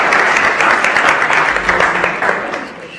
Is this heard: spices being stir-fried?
no